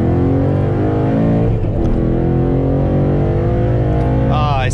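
A Ford Mustang accelerates on a road near a freeway, its loud engine droning steadily while the pitch climbs and drops through gear shifts, and a voice comes in near the end.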